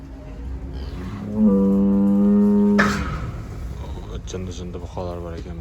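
Bulls and cattle at a livestock market in Taldykorgan: one long, loud, close moo, then shorter, fainter lowing from other animals, over background crowd chatter and voices.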